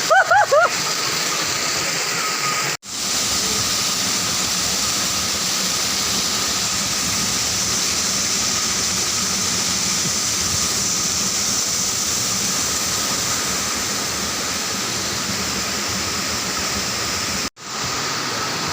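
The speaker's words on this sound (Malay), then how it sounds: "itulah air terjun yang terdapat di Bintang, Aceh Timur, Takengon" A waterfall in Bintang, Aceh, Indonesia roars steadily and loudly, a constant rushing wash of water that fills the whole scene without pause.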